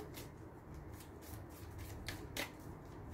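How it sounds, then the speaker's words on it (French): Tarot de Marseille cards are shuffled close up, giving a soft continuous riffling and rubbing with a few sharper flicks near the end, quiet and without talk. "je vais faire un tirage après avec le tarot psychique, le tarot de Marseille, la triade"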